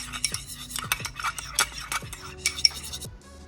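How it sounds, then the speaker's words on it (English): Dijon mustard and agave are mixed in a bowl, heard as close, rhythmic stirring and tapping of a utensil against the bowl with small clinks, ending in a short quiet. "you put around 10 grams to 11 grams of agave in a bowl, mix it together"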